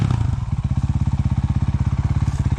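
An enduro motorcycle's engine pulses in a rapid, even putter as the rider gives it throttle on a steep forest climb through ferns. It sounds loud and close with a steady low-pitched rhythm and no talk over it.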